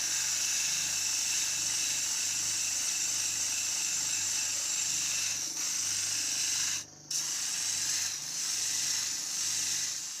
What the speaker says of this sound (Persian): با سنباده هم این میزنیمش